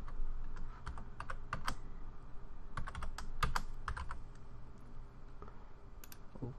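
Rapid clicking of computer keys as a password is typed on a keyboard during an Oracle Linux 8 installation, bursts of close, crisp keystrokes with brief pauses between them.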